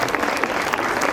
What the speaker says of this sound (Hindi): तालियां होनी चाहिए उस गुरु के लिए जिसने इन्हें ट्रेन किया।